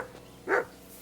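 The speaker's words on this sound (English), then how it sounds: "Get that mutt of yours to stop barking, will you?" A single short bark from a dog in the medieval video game Kingdom Come Deliverance 2, one sharp yelp standing out briefly over a quiet background.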